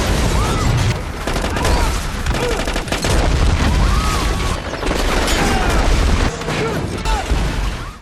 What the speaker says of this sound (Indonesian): sebuah bom bunuh diri